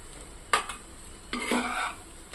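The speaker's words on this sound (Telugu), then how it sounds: "చూడండి, అన్నం అంతా ఇలా కలిపేసుకోవాలి" Pudina rice is stirred and mixed in a pan with a few distinct scraping strokes of a spoon against the metal, close and moderately loud, with a light sizzle underneath.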